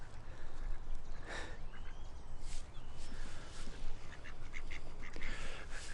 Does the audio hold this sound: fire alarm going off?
no